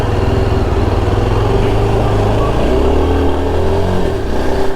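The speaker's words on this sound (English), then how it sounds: "This is the first time I'm putting the bike on third gear after 45 minutes, 50 minutes." Motorcycle ridden in third gear up a ghat road in the hills, a loud close engine drone with a steady throbbing exhaust note that shifts pitch slightly as it pulls, continuous with no voices.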